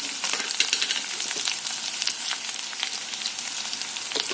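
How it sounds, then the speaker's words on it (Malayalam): Onions with a pinch of salt sautéing in a pan for an okra masala, giving a dense, even sizzle with soft crackles and occasional stirring scrapes; near and steady, no speech. "ഇനി നന്നായിട്ടൊന്ന് വഴറ്റി സവാള ഒരു ചെറിയ ബ്രൗൺ നിറം ആകുന്നിടം വരെ വഴറ്റിയെടുക്കാം"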